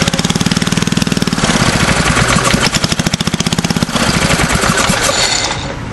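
An original Briggs & Stratton engine on a Powercar, model 80302, starts and runs with choke on, a loud, rapid, hard-knocking beat that holds steady for about six seconds, its pace briefly slowing and surging mid-run.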